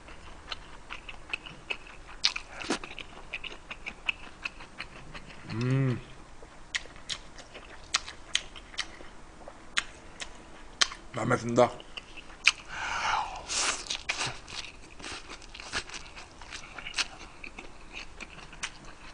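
Close, soft chewing and biting of pork neck steak and sausage, scattered crunchy bites and wet mastication clicks across a quiet room, with a brief murmur between mouthfuls.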